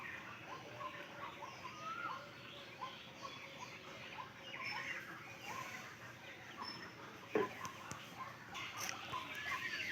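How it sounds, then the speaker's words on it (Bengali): Faint chirps and calls of small birds in a garden at dawn, scattered across a quiet, overcast outdoor background, with soft rustling and a brief knock partway through. "সামনে বাগান আছে সব পাখিগুলো ডাকছে"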